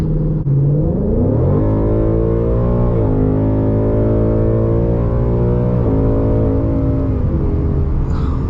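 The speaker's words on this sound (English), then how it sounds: "we might be able to do a little wide open throttle real quick" A 2020 Mustang GT fitted with a Borla S-Type cat-back exhaust roars at wide open throttle, climbing in pitch through several gear changes, loud and continuous throughout.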